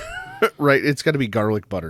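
A person's voice imitates a cat meowing: a close, loud, drawn-out meow-like cry woven into spoken words.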